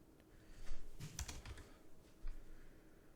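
Keys clatter on a computer keyboard in quick irregular bursts, fairly close and moderately loud, with no talking over them.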